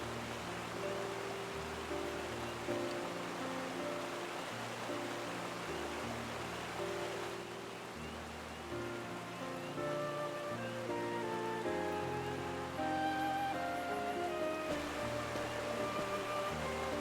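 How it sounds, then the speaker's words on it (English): Steady rain pours in a Final Fantasy XIV game scene, a dense, even wash of hiss under looping low background music, with no voices. "Fucking rain."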